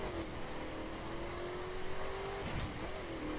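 Car engine in The Crew racing video game on PS4, a steady droning motor tone held at a fairly constant pitch with a slight shift near the end, loud and continuous with no talk.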